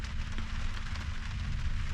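Heavy rain pours down outside a truck camper, a steady dense hiss with a low rumble beneath, continuous and fairly loud with no talking.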